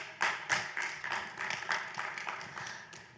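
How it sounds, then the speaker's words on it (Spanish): Audience applause for a guest introduced at a book launch marking a construction committee's 60th anniversary, heard as a few seconds of moderate clapping with no talk over it. "Un aplauso para Mónica."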